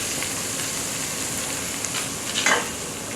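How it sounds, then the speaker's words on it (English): Coconut milk added to sizzling green curry paste gives a steady, quiet frying hiss, with a brief stirring scrape near the end and no voices. "So at this stage I'm going to add the coconut milk."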